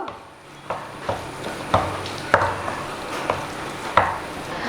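Potato masala with scattered coriander leaves is mixed in a pan. A spoon scrapes the pan in regular close strokes over a low, steady sizzle, with no voices.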